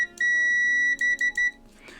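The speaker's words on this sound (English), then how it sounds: "we're using our trusty multimeter to test the pine white clicky switches" A multimeter beeps in continuity testing of Alps white clicky keyboard switches: one long sustained tone, then three short beeps in quick succession, clear and close with no voices.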